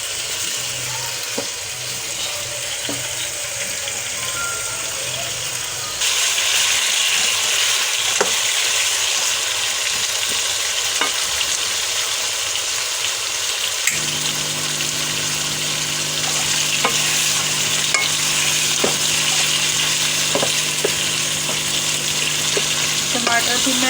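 Spiced potato slices fry over a high flame in a continuous loud sizzle that grows denser partway through, with occasional stirring clatter and no speech.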